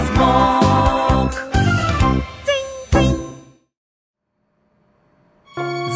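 A bicycle bell in a Russian children's animated series rings out in a quick run of bright, close dings and jingles, then fades to near silence before one more short burst of ringing.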